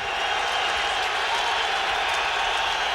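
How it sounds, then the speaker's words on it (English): A stadium crowd at an NFL game between the Chicago Bears and New England Patriots in 2006 gives steady, even applause as injured Junior Seau leaves the field. "thanking the crowd as they gave him a nice hand his way out"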